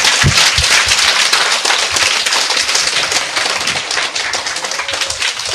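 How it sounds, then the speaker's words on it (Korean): A church congregation claps loudly and continuously in dense, sustained applause, filling the room for several seconds with no voices on top. "주님께 영광 박수 이때 치셔야 되는 거예요"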